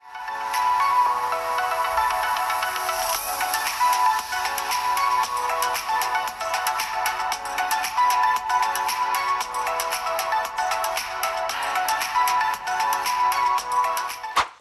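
Infinix Note 40 phone playing music through its dual speakers, a steady, bright, thin sound lacking low end, continuous at moderate level with no talking.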